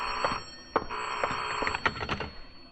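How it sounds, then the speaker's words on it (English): An old-style telephone rings in a radio drama sound effect, a bright metallic bell trilling in repeated bursts, fairly close and alone with no voices. "And shortly after midnight, the telephone rang in Claudia Elliott's apartment."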